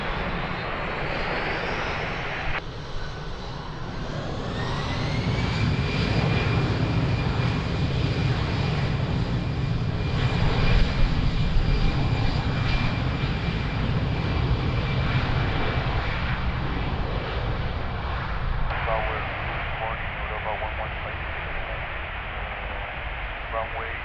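An airliner takes off at Lisbon Airport, its engines a broad, sustained roar that swells and holds for most of the stretch, with radio chatter from air traffic control running over it.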